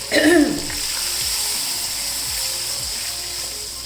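Water is poured into a cooking pot for vegetable pulao, a short splashy gush at the start that settles into a steady hiss and sizzle from the pot.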